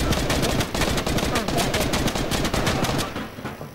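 Rapid bursts of automatic gunfire aimed at the player in Fortnite, loud and continuous with dense overlapping shots, easing off near the end.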